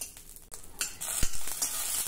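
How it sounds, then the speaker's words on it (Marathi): Green chillies roast in a pan for a traditional Varhadi urad-dal recipe, giving a soft sizzle with irregular scraping stirs and clicks against the pan, close and moderately loud. "हे मिरच्या अगदी खमंग भाजून झाल्या।"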